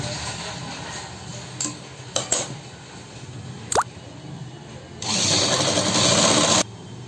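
A sewing machine stitches salwar fabric with buckram. A few faint clicks come first, then a close, steady mechanical whir runs for about a second and a half before stopping.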